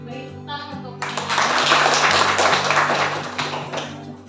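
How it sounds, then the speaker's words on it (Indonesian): Classroom applause during a teaching practice lesson breaks out about a second in, a broad, steady wash of clapping from the students that holds to the end while a voice keeps speaking underneath. "beri tepuk tangan untuk"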